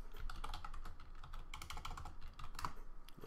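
A password is typed on a computer keyboard in a fast, steady patter of quiet key clicks, close and faint, with no voice present.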